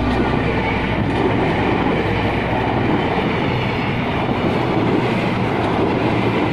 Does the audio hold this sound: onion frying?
no